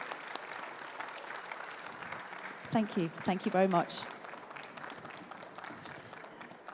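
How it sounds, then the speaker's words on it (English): Sustained applause from the audience for a panel at a morning AI for Good session, steady clapping throughout with someone briefly speaking over it midway. "can we have a lovely round of applause for our amazing panel this morning?"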